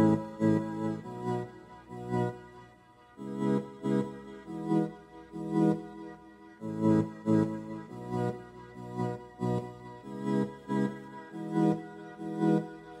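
An instrument made from a looped voice sample, shaped with EQ, compression and an Audio Damage pumping effect, plays soft chords that swell and duck in a steady rhythmic pulse, alone and fairly quiet.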